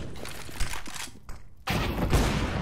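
Gunfire in a Counter-Strike match: a burst of loud game shots, a brief near-silent gap, then another sustained volley close and dense.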